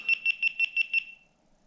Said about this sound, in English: It's beeping at me. Oh, its power was low.